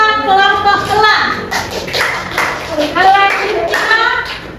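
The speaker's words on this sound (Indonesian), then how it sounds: "Beri tepuk tangan kelompok elang." Children clapping together in a classroom, a dense burst of applause under an adult voice and a voice, lasting a few seconds and tapering off.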